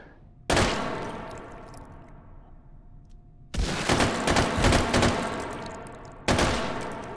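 Three loud bursts of video game gunfire, the first and last single heavy blasts with long decaying tails, the middle a sustained stretch of rapid shots, with no voices.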